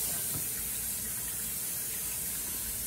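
Grapes are rinsed under a running kitchen tap, a steady close hiss and splash of water that stays level for the few seconds it lasts.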